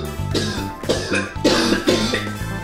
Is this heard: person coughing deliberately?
yes